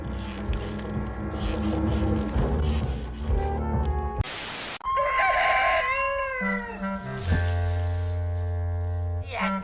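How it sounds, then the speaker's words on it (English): A cockerel crowing, with a drawn-out cock-a-doodle-doo cutting in after a burst of static, set within busy music and background sound. "damnation cockerel."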